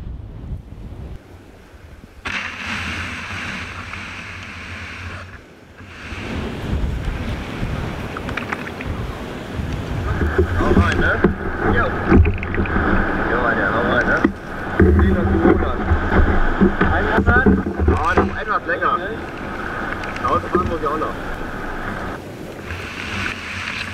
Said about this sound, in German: Die Wellen sind ganz schön hoch.